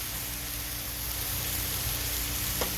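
Burgers frying with butter in a pan, a steady close sizzle and crackle that holds evenly throughout with no talk.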